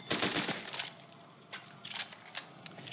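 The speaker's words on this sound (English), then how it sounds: "here is drum magazine. Super long reload, and here is the speed mag." Weapon reload sound in the Fortnite video game using a speed magazine: a quick burst of sharp metallic clicks and clacks up front, followed by a few lighter mechanical ticks, fairly close and without speech.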